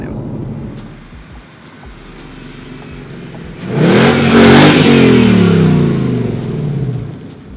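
A 2018 Mustang GT fitted with a VMP supercharger rolls in under a low idle, then its engine swells into a loud, close revving surge with a shifting, sweeping pitch that tapers off afterward.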